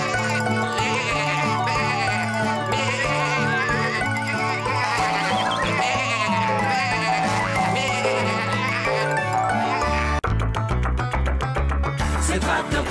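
Cartoon sheep bleat over a busy, loud musical underscore in a children's animated tractor show, the bleats mixed into dense music throughout, with a brief break near the end before the music continues.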